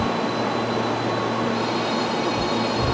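Train pulling into Nagoya station, a steady broadband rumble of wheels and rolling stock with a low drone underneath, continuous and close, no voices.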